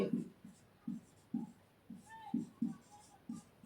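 Chalk or marker taps and strokes on a board during a maths lesson, landing in a steady rhythm of close, soft knocks roughly every half second, with faint background sounds between them.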